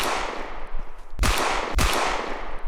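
Two loud, sharp gunshots about half a second apart crack out in the stealth game Sneak Thief, each a hard broadband blast standing out over a steady background hum.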